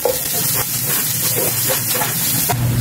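Ginger browning in hot oil in a pan, giving a loud, steady broadband sizzle and hiss that holds without a break.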